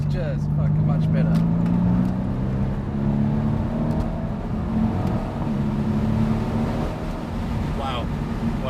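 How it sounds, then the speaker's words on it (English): A new Mercedes C63S AMG coupe accelerates hard on a track course, its engine note heard from inside the car as a rising, whirring drone with gear-change dips. Occupants talk excitedly over it. "this is a really quick car, Steve"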